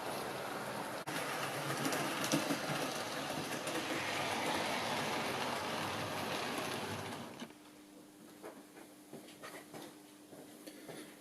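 A Hornby Thompson B1 model locomotive in apple green British Railways livery hauls three Bachmann teak coaches with a steady close rolling rumble and rail clicks, then it quietens abruptly near the end to faint ticks.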